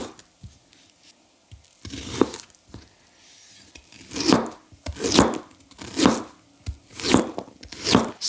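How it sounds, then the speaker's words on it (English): Garlic cloves are sliced with a long, thin Seki Kyuba Shin kiritsuke knife on a board, starting with a few light scattered taps and then settling into a steady run of about seven crisp, even cuts, close and with no voices. "Slicing garlic was a joy."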